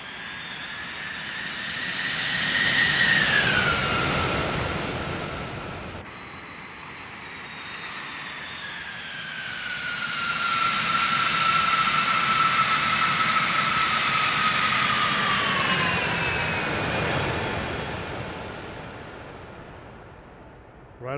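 A Citation X business jet in the X-Plane 12 flight simulator, heard from outside: a loud whining turbine roar that rises, dips, then swells again with shifting pitch across about twenty seconds, with no voices.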